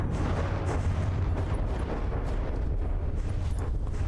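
Ammunition chain-reacting in the video game From the Depths, a dense, continuous barrage of booming explosions and crackling blasts that overlap without pause, loud and rumbling throughout.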